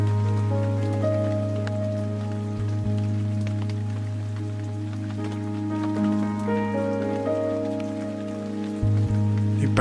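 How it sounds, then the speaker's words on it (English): Steady rain drums on an umbrella overhead outdoors, a loud continuous patter with occasional heavier drips, with a low steady hum running underneath throughout. "It basically rained all night and all morning, drenching everything, apart from me underneath this lovely brolly."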